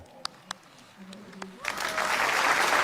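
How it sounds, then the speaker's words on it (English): At a large rally in Korea, a few isolated taps and faint sounds give way after a short pause to a broad, loud swell of crowd applause welcoming guests. "Let us welcome them with a big round of applause."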